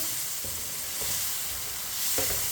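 Potatoes frying over high heat in a pot while a spoon stirs them, giving a steady close sizzle with soft scraping swishes that come back about every half second.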